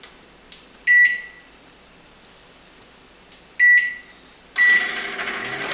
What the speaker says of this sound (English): And microwave for 1 minute.